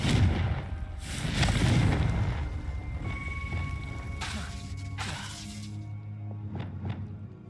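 Confringo fire spell bursts in Hogwarts Legacy: several booming blasts with crackling tails, spaced a second or two apart, over a sustained ambient game tone.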